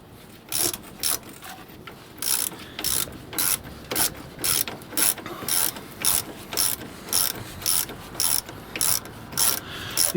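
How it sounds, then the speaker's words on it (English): A ratchet tightening brake caliper bolts on an Iveco Daily campervan, loud close clicking in steady rhythmic bursts, repeated many times without pause and with no talking. "it's time to tighten up the 2 bolts now"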